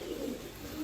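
A female pigeon coos close by in a low, soft, continuous murmur, heard alone for under a second.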